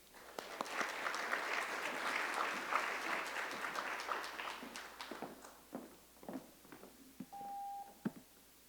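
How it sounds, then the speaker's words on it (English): Audience applause in a room of planners fills the first five seconds as a speaker takes the stage, then thins into scattered claps, footsteps and a brief tone near the end. "Please let's give Jason a big round of applause as he takes the stage."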